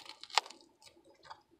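Soft, close crunching and wet chewing sounds, a few bites in quick succession with a brief louder crunch near the start.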